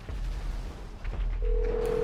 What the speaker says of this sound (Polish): Czyli telefon dzwoni